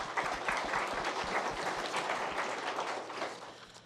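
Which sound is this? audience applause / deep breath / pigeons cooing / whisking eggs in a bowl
audience applause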